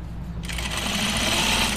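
A sewing machine starts up for top stitching, going from near quiet to a steady, close, rapid whir of stitches that keeps going to the end.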